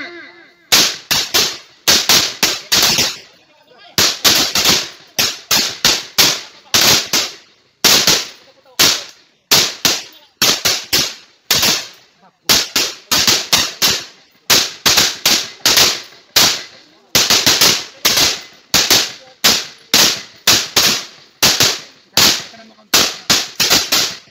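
Rifle gunfire on a live-fire training range, loud sharp cracks in rapid, irregular volleys and single shots from several shooters, repeating continuously with short gaps.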